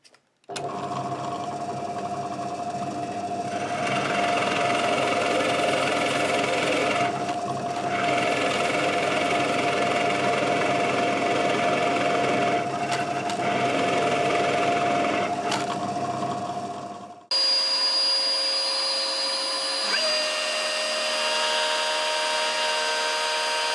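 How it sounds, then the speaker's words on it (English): A drill press with a Forstner bit cuts away wood from a bass guitar body, producing a loud, steady motor hum and grinding whine that runs for about seventeen seconds before stopping abruptly, leaving a faint tonal ring. "So we'll just head over to the drill press now and we'll start to take away all this material."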